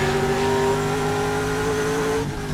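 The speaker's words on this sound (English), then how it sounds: "you can even hear his car struggling to shift" A Trans Am race car on track at Thunderhill drones loudly with a steady, high engine note, struggling to shift gears, the pitch holding flat before a brief dip near the end.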